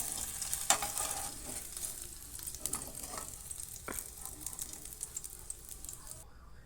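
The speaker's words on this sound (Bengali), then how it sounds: "সরু সরু করে কাটা পনিরগুলো ভেজে নেব দুই থেকে তিন মিনিট হালকা করে ভাজবো" Thin-sliced paneer fries lightly in a pan, a soft, steady sizzle with faint stirring scrapes and occasional taps, fairly quiet and without talk.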